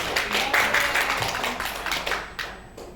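An audience claps together in a seminar room, a dense patter of many hands that stays steady and fairly close, then thins slightly toward the end.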